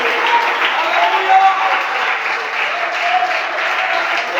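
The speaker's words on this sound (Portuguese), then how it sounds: "Você pode aplaudir o Senhor Jesus?" Church congregation applauding in praise of Jesus during a Portuguese-language sermon, a dense, steady wash of clapping from a full room that holds without pause throughout.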